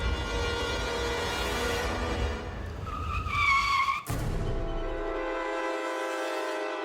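A car brakes hard to a stop with a loud, drawn-out tyre squeal that cuts off abruptly, followed by a steady engine idle.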